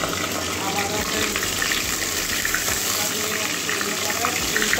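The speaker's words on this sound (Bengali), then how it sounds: "মাথাগুলো লাল লাল করে ভেজে নেবো" Catla fish heads frying in hot oil in a covered pan, giving a steady, dense sizzle and crackle that runs without a break throughout, with no voices.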